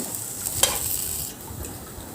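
Chopped ridge gourd peel is stirred in a hot pan for chutney, giving a soft, steady, faint sizzle with light scraping and one brief clink, no voices.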